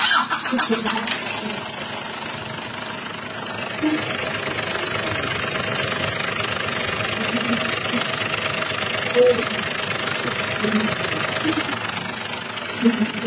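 A Ford Everest engine starts and then runs steadily, a continuous mid-pitched mechanical rumble with some knocking texture, with people talking intermittently over it.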